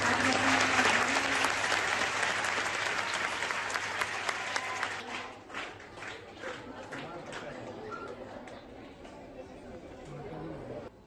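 Applause from children and staff at a primary school kite distribution event, loud clapping fading into scattered claps and chatter.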